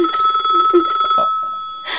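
An old telephone bell rings in a house in a steady fast trill with a bright, sustained tone, loud and near, then briefly stops before a short burst of noise at the end.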